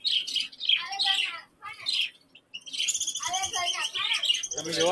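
Sparrows chirp close by in bright, rapid bursts of tweets, with brief pauses near the middle, then a busier flurry of calls toward the end.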